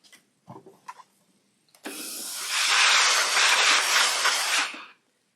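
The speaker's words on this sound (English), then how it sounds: "Put some steam on it." A steam iron pressing a fabric table runner lets out a couple of faint clicks, then a loud, steady hiss of steam that lasts about three seconds and cuts off.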